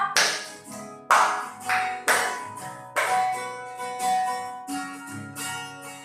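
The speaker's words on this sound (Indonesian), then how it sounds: "Gimana tangannya, tepuk tangan." Children clapping hands together in rhythmic groups at a kids' church service, six sharp bursts roughly one second apart, each tapering off, with instrumental music playing softly underneath.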